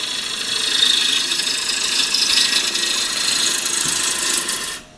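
A woodturning lathe cuts a deeper tenon, giving a steady rough scraping and whirring hum at close range that runs on evenly, then drops away abruptly at the end.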